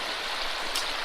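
Fast water rushing through a gold prospecting sluice on the Kern River gravel bar, a loud, steady broadband hiss and gurgle with no pauses.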